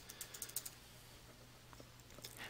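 Quick bursts of keystrokes tap on a computer keyboard while a deposit amount is entered into accounting software, a faint cluster of clicks early, then a few scattered taps.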